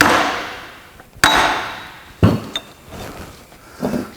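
Two or three sharp metallic hammer blows ring out on a tool fitted to a nut during an NV4500 transmission teardown, close and loud with a bright clang and a fading ring, spaced about a second apart with lighter clinks between.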